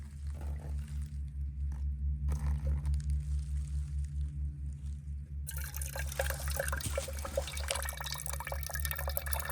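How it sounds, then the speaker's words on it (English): Rain pours while water runs off a tarp, first as a faint trickle under a low rumbling hum, then as a louder, steady splashing stream for the last few seconds. "Little fine tuning as it's still raining. Rain's pouring down."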